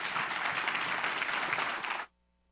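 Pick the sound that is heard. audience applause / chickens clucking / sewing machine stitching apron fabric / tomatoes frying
audience applause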